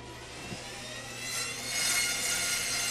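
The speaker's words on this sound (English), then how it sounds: "Cutting the sheet out on the bandsaw at the beginning is a little difficult." A bandsaw cuts a sheet of hard, durable cedar for carved decoy tails, the blade running with a steady whining drone that swells slightly as it bites into the wood, close and without talk.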